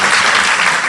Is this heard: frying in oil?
no